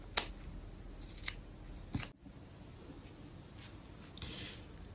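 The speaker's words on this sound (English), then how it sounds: "I've got my little bits of wool and threads from all the projects we've been sewing recently, and then snip, snip, snip." Close, quiet scissors make a few crisp separate snips through small bits of wool and thread left over from sewing projects, with soft rustling between the cuts.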